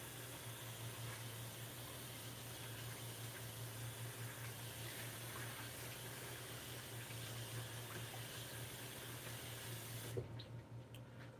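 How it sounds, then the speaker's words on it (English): Cold tap water runs while a head of cabbage is washed, a quiet continuous stream with a low hum beneath, and a small clatter as the flow is cut off near the end. "So I'm gonna wash it off with cold water."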